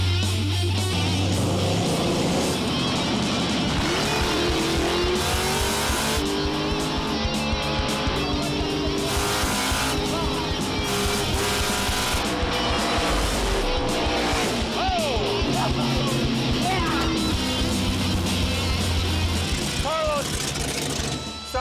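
Loud drag racing engines roar and rev continuously at Tucson Dragway, with tires squealing and old-school cars launching hard, under an energetic crowd and commentary-like voices.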